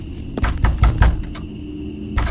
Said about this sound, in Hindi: उठकर दरवाजा खोला